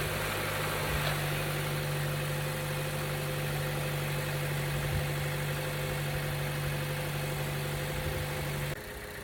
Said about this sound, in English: we're also going to turn on the car to make sure there's no oil leaks